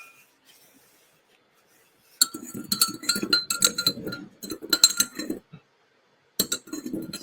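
A spoon stirring sugar into a cup of hops tea, clinking repeatedly against the cup in quick uneven bursts, close and clear after a short quiet start, with a pause before a final flurry.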